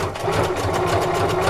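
A sewing machine runs continuously, stitching a zigzag seam on microfiber fabric, with a steady close mechanical whir and rapid needle rhythm throughout the short burst.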